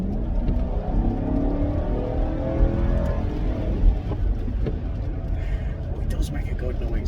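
A Jaguar XK sports car engine rumbles steadily and low while driving, with a voice talking over the continuous road noise.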